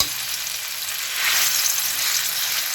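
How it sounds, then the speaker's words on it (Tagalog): Eggplant frying in a small amount of oil in a pan, a close, steady hiss and crackle that grows slightly louder partway through. "So, ilalagay natin yung talong. Konti lang yung mantika."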